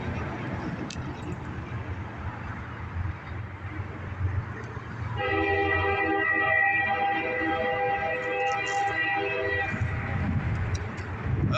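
A train rumbles along railroad tracks, and midway a sustained multi-tone train horn sounds for about four seconds over the rolling noise. The horn is moderately close.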